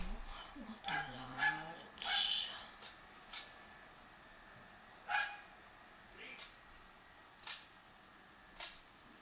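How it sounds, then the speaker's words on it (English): A neighbor's lone dog left outside barks in short, scattered bursts, distant and faint, with about half a dozen separate barks spread across a quiet stretch. "They're one dog, and he barks because he wants in the house."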